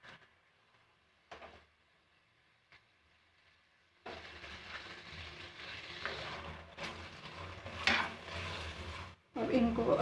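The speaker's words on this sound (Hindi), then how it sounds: "अब प्याज फ्राई करूँगी" Onions go into a pan after a few quiet clinks and knocks, then a steady, moderate sizzle of frying takes over, close by with small shifts in intensity.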